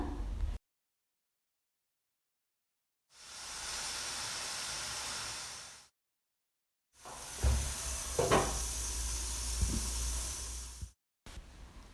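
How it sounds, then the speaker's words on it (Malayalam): Onions sautéing in a pan for a Kerala payar thoran, a steady broadband hiss in two separate bursts broken by silence, the second with a few clatters over the sizzle. "അപ്പോഴേക്ക് നമ്മുടെ ഉള്ളിയൊക്കെ നന്നായിട്ട് വഴറ്റി എടുത്തിട്ടുണ്ട്"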